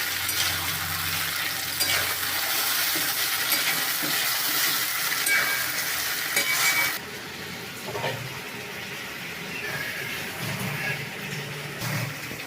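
Potatoes and pointed gourd frying with spices in hot oil for a thin fish curry give a steady loud sizzle, close up, that drops a little midway while stirring scrapes and clinks come through.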